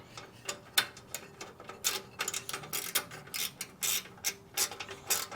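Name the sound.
ratchet tightening Harley-Davidson Sportster exhaust nuts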